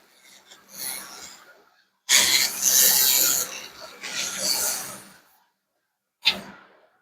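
A Scotch-Brite pad scrubs over a wooden cabinet freshly stripped with a laser, making dry rasping strokes in several bursts, loud and close, with pauses of silence between them.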